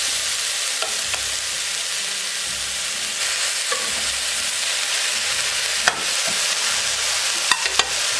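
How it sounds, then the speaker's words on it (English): Beef and broccoli fry together in a hot pan, a steady close sizzle running throughout, with a few sharp clinks and scrapes of a utensil stirring the food. "add your beef to the broccoli"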